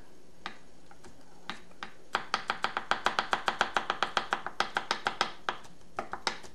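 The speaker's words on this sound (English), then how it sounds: "I'll cut onions up, and I'm using my Cape Cod ceramic knife" Chopping onions with a Cape Cod ceramic knife on a cutting board: a few scattered cuts, then a fast, steady run of close, crisp knife strikes, finishing with a few spaced chops.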